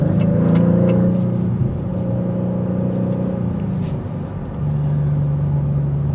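A 2024 Maserati GranTurismo Trofeo on the move gives a loud, throaty exhaust drone, a deep steady rumble that dips briefly then returns with sustained engine note, heard up close with no talk.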